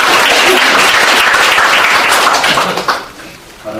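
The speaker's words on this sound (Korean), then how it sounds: "질문하신 두 분에게 박수 보내주세요" Audience applause for two questioners at a youth discussion event, loud dense clapping from a close crowd that fades out after about three seconds, followed by a brief voice.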